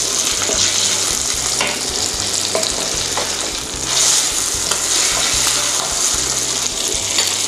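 Firm tofu pieces stir-frying for pad thai, a steady bright sizzle of hot oil with faint scraping of the spatula, loud and close throughout with no talking.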